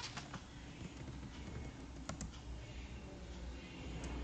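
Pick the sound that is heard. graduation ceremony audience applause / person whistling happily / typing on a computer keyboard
typing on a computer keyboard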